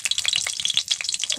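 Cumin seeds hitting a hot pan while making Bengali pineapple chutney set off a steady, crackling sizzle with quick pops, close and fairly loud throughout, with no voices.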